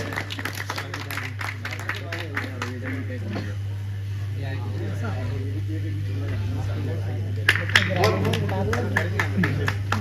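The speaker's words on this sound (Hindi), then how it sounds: "जोरदार तालियों स्वागत करो देवेंद्र वैष्णव" An audience at a Hindi comic poetry gathering claps to welcome comic poet Devendra Vaishnav, with crisp bursts of clapping at the start and again near the end while someone speaks over them, above a steady low electrical hum.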